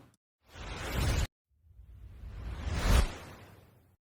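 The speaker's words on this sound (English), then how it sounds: "Whooshes." Two whoosh samples for drum and bass production play alone: a short, dense noise swell that cuts off abruptly, then after a pause a longer, rising reversed-style whoosh that peaks loudly and tails away.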